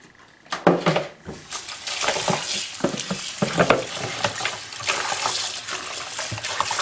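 Tap water splashes and trickles at a kitchen sink as a whole raw chicken is rinsed, with irregular close splashing bursts and handling noises throughout, no speech.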